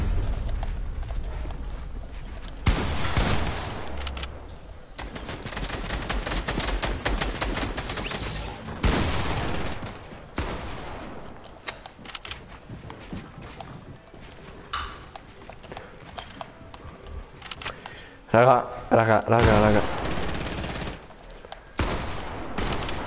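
Gunfire in the video game Fortnite, loud bursts and rapid volleys of shots that come and go across the stretch, with a sharp cluster near the end and a brief spoken word among them.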